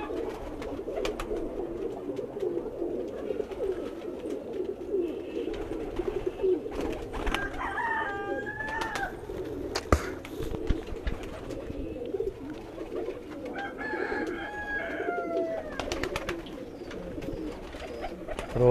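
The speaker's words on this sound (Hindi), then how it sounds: "ये मेरा बड़ा प्रमोद कबूतर है जी, जहाँ से सारे प्रमोद आगे बने हुए हैं, मेन ब्रीडर नर जो है प्रमोद" A Pramod breed pigeon, the main breeding male, coos in low repeated rolling calls over a murmur of other pigeons on a rooftop, with a few sharper bird notes cutting in midway.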